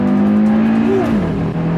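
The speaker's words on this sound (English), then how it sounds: "It is frightening sometimes how fast this car accelerates" A 2021 Audi Q3 RS Sportback accelerates hard, its engine droning loud and steady from inside the cabin, pitch dipping briefly as the revs shift, with no talk.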